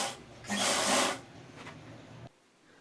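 Sewing machine stitching the lining of a ladies' coat, a brief whirring burst of stitches close up, followed by quieter mechanical handling noise and a sudden stop.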